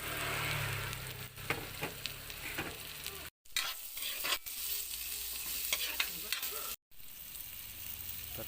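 Ginger sautéing in hot oil in a pan for salmon-head sinigang, a continuous sizzle with intermittent stirring scrapes and two brief dropouts.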